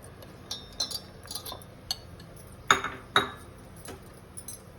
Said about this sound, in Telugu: ఈ చిక్కుడుకాయలు దీంట్లో వేసేస్తాం